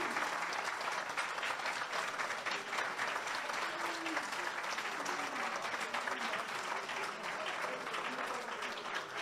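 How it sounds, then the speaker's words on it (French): A crowd at a political event in Côte d'Ivoire claps steadily and heavily for president Cheikh Tidiane Thiam, an even wall of applause with a few faint shouts mixed in. "Applaudissements nourris pour le président Cheikh Tidiane Thiam."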